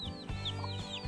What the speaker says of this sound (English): It's native chicken, not broiler chicken.